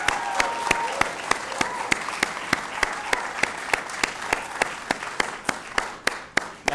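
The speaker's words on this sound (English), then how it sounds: "I think that deserves a big round of applause" Sustained audience applause at a Nasdaq opening bell ceremony for National CineMedia, a dense wash of many hands with sharp, evenly spaced claps punctuating it, fairly loud and continuous before tapering off.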